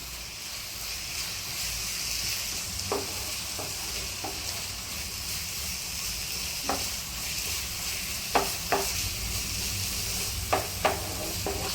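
Milk simmering and reducing in a pan for carrot burfi, a steady soft hiss and bubbling with occasional light clinks of a spoon stirring, no talk.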